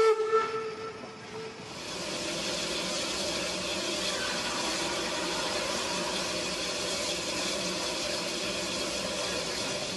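Eureka & Palisade No. 4, a wood-fired steam locomotive on the Durango & Silverton, gives a loud tonal whistle blast at the Hermosa water and wood stop, then settles into a steady, broad hiss of venting steam that lasts to the end.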